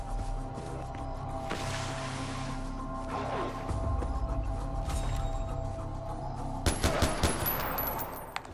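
Gunfire in the video game Far Cry 4 sounds over a steady rumbling in-game ambience. A cluster of sharp shots cracks out near the end, fairly close, with no talk.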